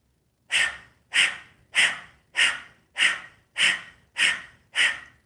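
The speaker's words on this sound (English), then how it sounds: "pump your stomach inwards and exhale through the mouth like this" Eight forceful mouth exhales with the tongue out during yoga breathing, evenly spaced about 0.6 seconds apart, each a sharp, breathy huff close to the mic with silence between.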